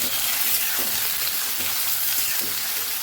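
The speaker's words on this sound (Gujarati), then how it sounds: "હવે આપણે જે બટેકાની ચિપ્સ કરેલી એનો વઘાર કરી લઈશું." Potato chips sizzle in hot oil tempered with cumin and asafoetida, a loud, steady frying crackle with faint stirring scrapes.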